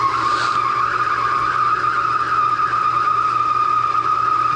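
A neglected metal lathe taking a facing cut and throwing chips, giving a steady, harsh high-pitched screech with a strong sustained whine that runs unbroken and loud throughout, with no talking.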